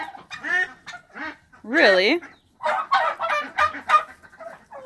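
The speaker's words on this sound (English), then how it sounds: "female birds are so loud" Female birds call loudly outside a house, with several honking, squawking bursts close by and one long, strong cry near the middle; a person speaks briefly.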